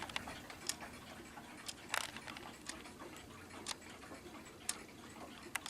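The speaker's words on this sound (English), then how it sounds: "I feel like out of all the quartz clocks that are in this house, I feel like this one is the one that ticks the loudest." A quartz clock ticks loudly in a quiet room, sharp single clicks at roughly one-second intervals, close and clear over faint background noise.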